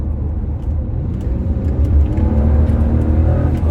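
An Acura CL Type S with a six-speed manual drops a gear on a race track, and the engine note rises into a loud, close, throaty rev with a rumbling undertone and no talk over it.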